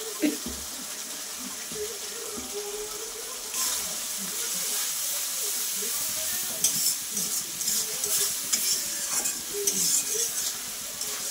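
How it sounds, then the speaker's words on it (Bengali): Ground ginger, cumin, garlic and tomato spice paste stir-fried with fried onions in a pan, a steady close sizzle with scraping stirs that grow busier toward the end, with no talk. "এবার মশলাটা ভালো করে কষিয়ে নেব"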